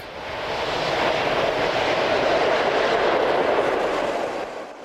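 An ÖBB class 1042 electric locomotive heads west out of Melk, its train passing close and loud as a broad rushing rumble that swells and then eases slightly.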